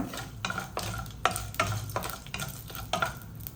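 Mustard seeds and dried red chilies sizzling in hot oil, with a spoon stirring the pan in repeated scraping strokes over a steady frying hiss, close up.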